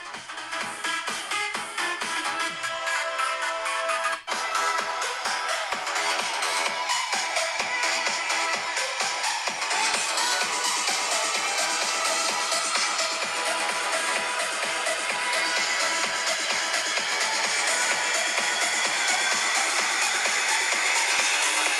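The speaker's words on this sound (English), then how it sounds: "Now let's listen to a tune. I have one prepared here from the copyright-free samples." Continuous music plays through the stereo speakers of an iPhone 13 Pro, steady and full at a constant loudness for over twenty seconds, with no talking over it.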